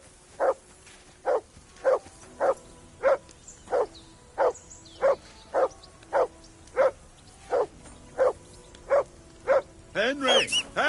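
A dog barks in a steady, evenly spaced rhythm, about fifteen loud single barks in a row, followed by a brief burst of scuffling and louder noise at the end.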